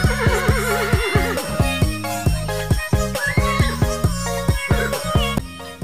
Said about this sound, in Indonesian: Kalau ini anak kuda.